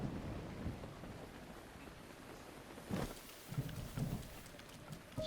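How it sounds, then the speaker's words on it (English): Rain falls steadily in a Zelda Breath of the Wild thunderstorm, a broad low rumble of thunder swelling midway with a few heavier rolls and gusts near the end. "having to do all of this in the stupid thundering rain"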